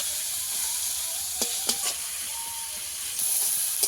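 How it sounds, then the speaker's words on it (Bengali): Onions and green chillies frying in a spicy chicken dish, a steady close sizzle with a few sharp stirring clatters partway through and the hiss swelling near the end. "পেঁয়াজটা ভালো করে ভেজে নিতে হবে।"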